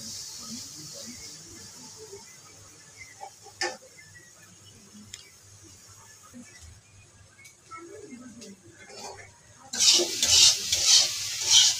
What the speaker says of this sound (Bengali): সয়াবিনটা আমি ভালো থেকে ভেজে নিচ্ছি লাল লাল করে